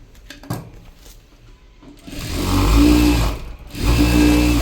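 A sewing machine stitches a work blouse, starting with light clicks and handling sounds, then running in two loud, steady whirring bursts separated by a brief pause.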